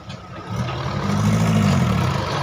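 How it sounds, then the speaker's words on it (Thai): A farm tractor engine runs steadily in a low, rumbling idle, close by and fairly loud, with no talk over it. "รถไถครับ"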